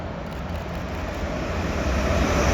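A passenger train on the Sunderland to London King's Cross service at Doncaster station, a steady rumbling roar that slowly builds in loudness as it draws closer, with no talking.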